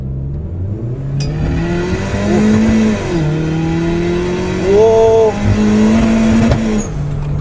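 A Toyota Avanza engine revs up and down several times, rising and falling in pitch, close by, with a brief exclamation from a voice.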